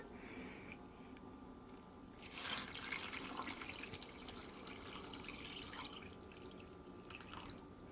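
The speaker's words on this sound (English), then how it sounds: "After that, then you just add in 4 cups of water." Four cups of water poured into a pot for vegan corn chowder: a steady splashing stream that swells after a couple of seconds and keeps running at a constant level, close and alone.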